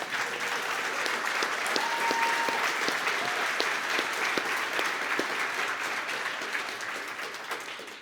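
Audience at a developer conference keynote bursts into sustained applause, a dense, even clatter of many hands lasting several seconds and tapering slightly at the end, with a faint tone sounding briefly through it.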